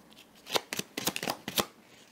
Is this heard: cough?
no